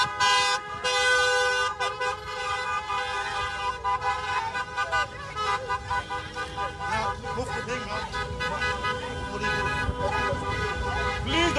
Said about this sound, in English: We still have youth blasting their horns